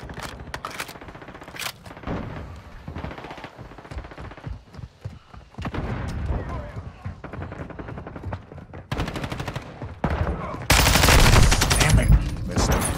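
Video game gunfire rattles in bursts of rapid automatic shots and single cracks, loud and close, with short pauses between volleys and spoken voices breaking in.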